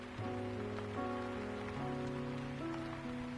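Rain falls in the Afterlove EP video game as a steady, dense hiss beneath soft sustained musical chords that change every second or so.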